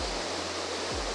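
Steady, broadband rush of a waterfall pouring over rocks among ferns, a constant even roar with no breaks, fairly soft and heard alone.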